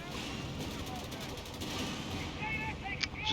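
Gunfire in the real-time strategy battle game Company of Heroes 3 crackles in a dense, continuous mix of distant shots and battle noise, with a few brighter impacts near the end.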